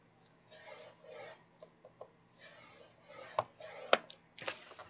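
A cardstock card base is scored with a run of soft, close rasping strokes, broken by sharp clicks and taps from the scoring tool, with no speech.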